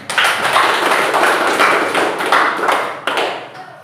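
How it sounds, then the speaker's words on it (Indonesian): Applause from a classroom of students, a brief burst of rhythmic clapping that swells and fades over a few seconds with sharp individual claps standing out, fairly close and loud, with no talk over it. "Tepuk tangan."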